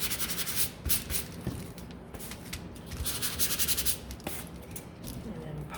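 Wooden pallet sign pieces are hand-sanded with a steady run of close, gritty rubbing strokes in an uneven back-and-forth rhythm, fairly soft and without speech.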